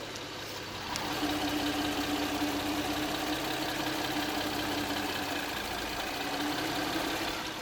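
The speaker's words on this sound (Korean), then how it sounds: "해당 차량 일단 엔진 소음 먼저 들려드릴 건데" A Hyundai Grandeur HG V6 GDI engine idles with a smooth, steady hum and a faint whirring belt underneath, close and constant throughout.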